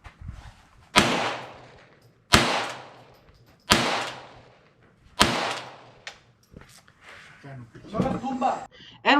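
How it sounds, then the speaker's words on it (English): A rifle fires at a shooting range in Mexico: four sharp, loud reports, each ringing out and fading, spaced about a second and a half apart, followed by rustling and handling noise. "There's gonna be someone firing a rifle, so I better put this on."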